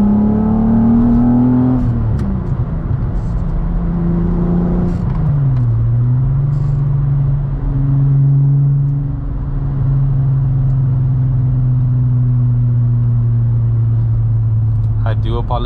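Inside a modified Mk2 Golf GTI with a 12-valve VR6 swap, cams and short gear ratios, a loud, steady engine drone climbs and drops in pitch through gear changes while someone talks over it.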